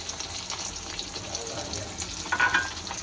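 Marinated spicy fish frying in a pan in a home kitchen: a soft, steady sizzle and crackle at moderate distance, with a slightly louder spatter near the end.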